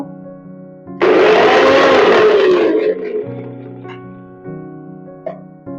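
A mixer grinder bursts into a loud whirring run for about two seconds, then winds down and fades, with the splash of rinse water inside the jar and faint kitchen sounds around it.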